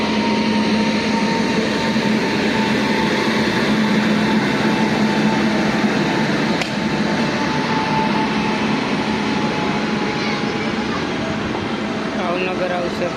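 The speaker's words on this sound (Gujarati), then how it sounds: "લાઇટ એન્જિન આવી ગયું છે મિત્રો" A light locomotive engine idles at a railway crossing with a steady low diesel rumble and drone throughout, near and loud, and a person talks over it.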